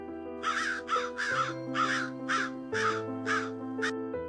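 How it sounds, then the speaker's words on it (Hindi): Crows caw around a flower pot on a veranda, a series of about eight sharp, harsh calls in an uneven rhythm, close and clear over sustained musical tones. "मैंने देखा 2 कौवे एक गमले के चारों ओर चोंचों से छुआ छुअल जैसा खेल खेल रहे हैं"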